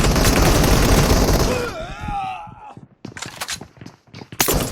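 PUBG gunfire in a warehouse map: a loud sustained burst of rapid shots at first, followed after a pause by a string of sharp, irregular single cracks.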